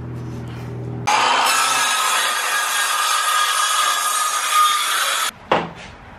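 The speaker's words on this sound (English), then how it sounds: "Time to get sawing." A long continuous stroke of sawing through wood, loud and close, starting abruptly after a low hum and stopping with a brief clatter.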